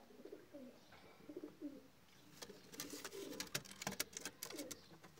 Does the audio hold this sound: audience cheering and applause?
no